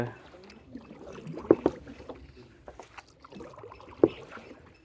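A small boat is paddled and steered on Kantale lake in Sri Lanka, with soft water swishes and a few sharp knocks of paddles against the hull, while faint background voices murmur.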